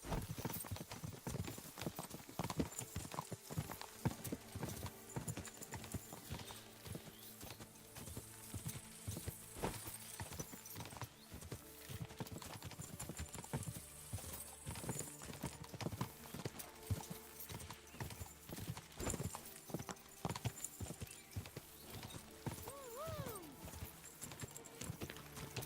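Horse galloping in the video game Kingdom Come: Deliverance II, rapid rhythmic hoofbeats pounding steadily throughout with creaks and a backdrop of game music.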